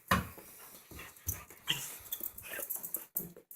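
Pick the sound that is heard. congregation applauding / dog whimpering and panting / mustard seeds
dog whimpering and panting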